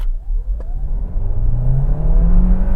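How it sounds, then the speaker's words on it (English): A 2022 Kia Sportage engine revs hard through a full-throttle 0-60 launch, a close, loud rising drone climbing steadily in pitch over road and wind roar. "Bit of noise when you rev it out, this engine"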